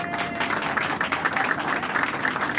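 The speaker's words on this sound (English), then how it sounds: "Give him a big round of applause." An audience at a White House crew celebration for the 20th birthday of the 747 serving as Air Force One applauds, dense, steady clapping from a crowd with no pauses.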